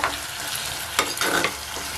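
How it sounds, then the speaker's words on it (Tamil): Raw mango pieces and tomato sauté in a clay pot for fish curry, a dense, close hiss of sizzling under repeated stirring scrapes, with a louder scrape about midway and more soon after, no voices present. "இப்ப அதோட கட் பண்ணி வச்சிருக்க மாங்காய் துண்டுகளை சேர்த்துக்கலாம். சேர்த்து வதக்கி விட்டுக்கோங்க."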